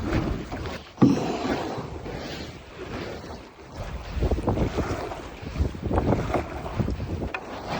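Strong wind buffets the microphone while a boat is paddled against it on a backcountry trip, producing a loud, continuous roar with gusty swells and a sharp thump near the start. No one speaks.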